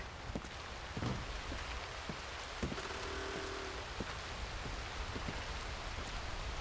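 Rain falls steadily in Red Dead Redemption 2, a soft, even patter on surfaces near a porch with scattered distinct drops and a faint brief tone midway, no voices.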